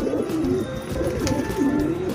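Several pigeons, freshly bathed and sitting together, give repeated low rolling coos in a steady overlapping stream, close and moderately loud with no talking.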